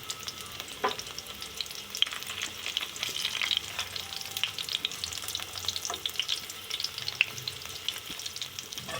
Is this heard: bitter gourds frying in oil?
yes